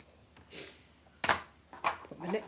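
Scissors trim back fabric or felt for a sewn peek-a-boo bunny, with a few close, crisp snips in quick succession over a quiet background.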